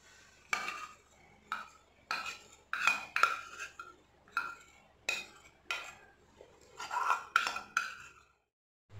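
Homemade yeast mixture is scraped into a glass bowl, making a series of sharp, close clinks and scrapes in an irregular rhythm, with a few quick clusters of knocks before it falls quiet.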